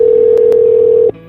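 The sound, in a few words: phone dialing 911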